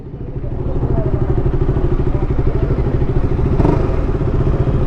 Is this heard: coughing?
no